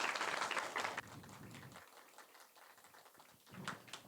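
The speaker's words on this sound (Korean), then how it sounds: "박수 부탁드립니다" Applause from an audience greeting a youth foundation official introduced as a judge at a student mock-investment report event, a quiet, fairly distant patter of clapping that fades midway and briefly swells again near the end.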